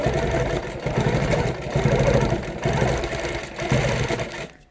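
Domestic sewing machine stitching quilt block seams, a steady loud mechanical whir that runs in bursts with brief pauses between stitching runs, alone and close, stopping at the end.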